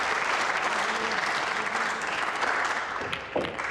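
An audience at a World Cup of Pool semi-final between Japan and England applauds in a dense, even wash of clapping from a crowd around the table.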